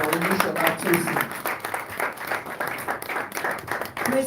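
A conference audience in Abuja at a talk on the future of work applauds; steady clapping fills the room, moderately loud, with voices mixed in over it.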